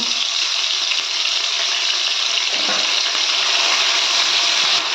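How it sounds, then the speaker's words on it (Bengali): Onion paste frying in hot mustard oil in a pan, a steady loud sizzle that holds for the whole stretch with a faint clink of stirring partway through. "তেলটা গরম হয়ে গেছে আমি এর মধ্যে দু চামচ পেঁয়াজ বাটা দিয়ে দিলাম"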